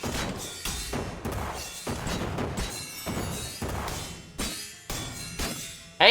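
Punches land in Shadows Over Loathing, a quick run of soft thuds and cracking smashes spaced about every half second, with a louder crash at the end.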